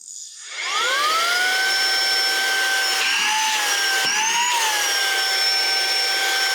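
A Saker 3-in-1 cordless handheld vacuum cleaner switches on and runs at low speed with a close, steady whining motor tone that wavers briefly partway through.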